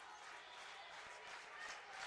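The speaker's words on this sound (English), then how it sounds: "Crowd making some noise here." A college volleyball crowd at an Alaska versus Seattle Pacific match cheers and applauds in a steady, faint wash of clapping and voices from the stands.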